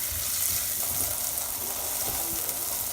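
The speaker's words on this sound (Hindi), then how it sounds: "ये मेरे पास frozen beans and frozen he carat है, इनको 1-2 मिनट हम फ्राई करेंगे" Frozen beans and carrots fry with garlic in a pan, giving a steady close sizzle and crackle with no talking.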